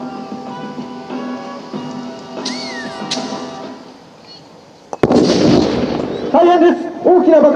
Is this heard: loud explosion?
yes